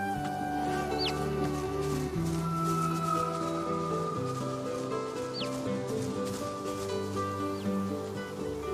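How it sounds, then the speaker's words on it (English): A rooster clucking in the video game Divinity Original Sin 2, a few faint, brief calls over a steady droning game soundtrack. "there's a magical rooster up there"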